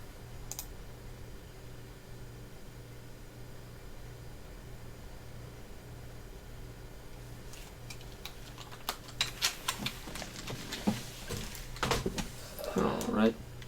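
Computer keyboard keys clatter in quick, uneven bursts of close clicks after a long quiet hum, with a voice briefly heard at the end.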